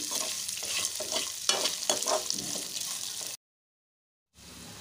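Garlic and amaranth leaves sizzle and fry in hot oil while a utensil stirs and scrapes through them, close and steady for a few seconds before a sudden silence and then a softer return of the frying.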